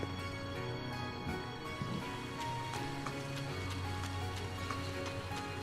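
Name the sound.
rain falling in the video game Trails of Cold Steel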